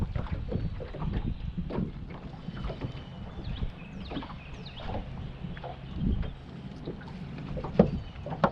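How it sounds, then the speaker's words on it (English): Wind blows across Lake Lanier in a steady low rush with gusting buffets, heard from near a fishing boat on the water. Faint splashes and knocks come through now and then. "Wind started to blow a little bit"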